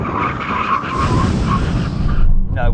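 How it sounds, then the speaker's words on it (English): A Nissan GT-R Nismo, Porsche Panamera Turbo S and Audi RS6 Avant braking hard from 70 mph, tires skidding and squealing loudly and continuously, close by, fading at the end. "now we're going to do a brake test from 70 miles an hour"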